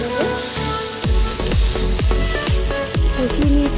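Small fish curry masala with chopped coriander sizzles and fries in a pan, with repeated stirring scrapes every half second or so, loud and close, no talking.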